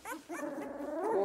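Several doodle puppies whimper and whine nearby in thin, high, wavering cries that overlap and rise toward the end.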